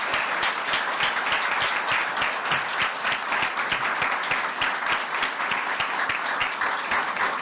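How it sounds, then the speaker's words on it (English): A crowd at Arizona's Governor's Volunteer Service Awards claps for the volunteer honorees, loud and sustained, with dense overlapping hand claps that continue evenly throughout. "let's have one more round of applause for all of our honorees"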